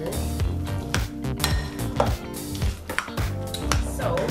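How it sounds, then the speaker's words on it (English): A knife chopping a boiled egg on a cutting board in a home kitchen, a series of close, crisp, irregular taps and clicks of the blade striking the board, with no talking. "It's an egg that didn't want to chop up good"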